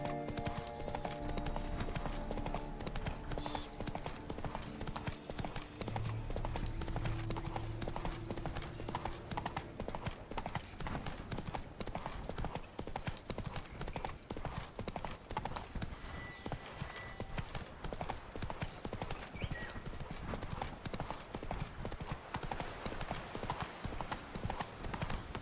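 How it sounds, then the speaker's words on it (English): Roach, Geralt's horse in The Witcher 3: Wild Hunt, gallops with rapid, steady hoofbeats clopping continuously throughout, plus a brief whinny and a few quieter game sounds beneath. "Run, Roach."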